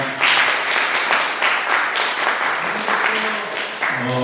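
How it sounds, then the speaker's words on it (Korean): An audience at a science and culture forum applauds loudly, with dense, sustained clapping that carries through and a voice starting up at the very end. "박수 소리가 우렁차서 기분 좋습니다."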